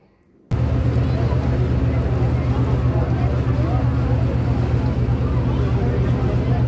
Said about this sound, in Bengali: আমাদের লঞ্চ ছেড়ে দিয়েছে।